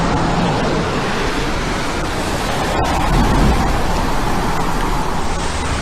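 Steady broadband hiss of rain mixed with road traffic noise on a rainy journey toward Nazaré, Portugal, continuous and fairly loud with a slight swell midway.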